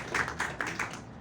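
Audience clapping at a Hindi poetry recital, about five quick even claps in a steady rhythm, moderately close.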